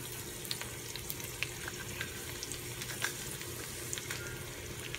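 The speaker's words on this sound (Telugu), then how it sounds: "కొంచెం వెల్లుల్లి వేగిన తర్వాత జీలకర్ర 1 టీ స్పూన్," Crushed garlic and cumin seeds fry in hot oil, giving a steady soft sizzle dotted with faint crackles and occasional light pops, close by and without talk.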